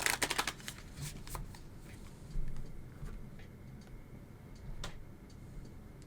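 A stack of tarot cards is riffled and shuffled in quick bursts of soft, crisp flutters and taps, close by with quiet pauses between.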